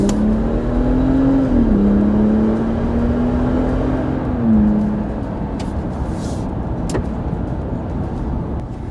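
A Ram 1500 truck with an inline-6 twin turbo engine and aftermarket exhaust accelerates on a road, a loud steady engine drone rising in pitch, dipping at a gear change, then rising again.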